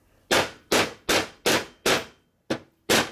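A hammer taps parts into a Harley-Davidson five-speed transmission with seven sharp, loud, evenly spaced strikes. Each blow rings briefly and is heard alone, without talk.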